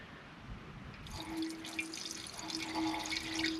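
Coolant gel and water pouring into a 2.5 gallon engine cooling system, a steady splashing trickle that strengthens after a second and continues with small drips and gurgles, fairly quiet and close.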